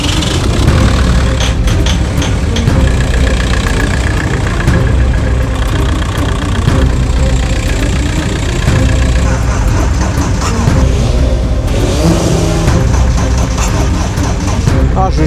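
A BMW 530d diesel engine runs steadily just after starting, a loud, close, continuous idle with a rough knocking texture that stays even throughout, while voices are heard over it.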